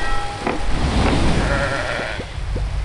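A fluffy sheep character in the game Crossy Road bleats several times, loud and close, mixed with a steady game backdrop and soft clicks.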